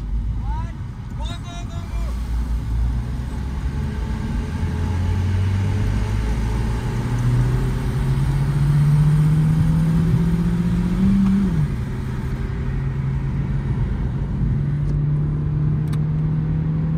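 A Hyundai Verna 1.6 and a Verna 1.5 race on a short track, each loaded with five people. Engine drone rises steadily in pitch under acceleration, then drops after a gear change, with continuous car and road noise throughout.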